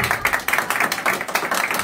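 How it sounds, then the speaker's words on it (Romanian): Family and guests clap together at a surprise birthday celebration for Ion in Cigârleni, Ialoveni district, a close and steady patter of hand claps repeating in quick bursts throughout. "aplauze!"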